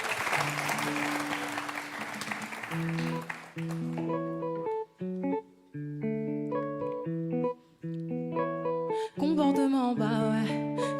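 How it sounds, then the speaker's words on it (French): A live concert crowd at the Rendez-vous Live stage claps warmly for a few seconds while the first sustained notes of a song begin, then the applause gives way to the music alone. "sous les applaudissements du public en chaleur"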